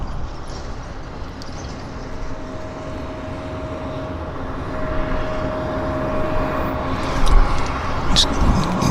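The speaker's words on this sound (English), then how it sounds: "It's Alaska Airlines Flight 2185. Taxiing down." Alaska Airlines Flight 2185 taxis at Vancouver Airport, a steady, close jet engine roar with a thin sustained whine. The roar swells slightly toward the end.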